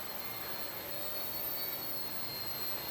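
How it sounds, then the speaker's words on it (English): Small Blade 70S RC helicopter hovering indoors, a steady close electric whine and whir of rotor and motor with a high tonal hum, continuous and unbroken. "this helicopter is pretty easy to fly"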